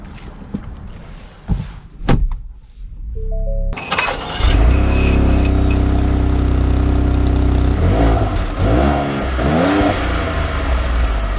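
A 2019 Ford Edge ST starts with a thud and some clatter, then its engine settles into a loud, steady drone heard from inside the cabin, with several swelling revs toward the end.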